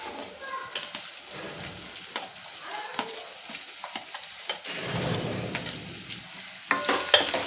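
Onions frying in hot oil in a kadai for a green corn chevdo, a steady soft sizzle with repeated clicks and scrapes of stirring, fairly close and moderately quiet.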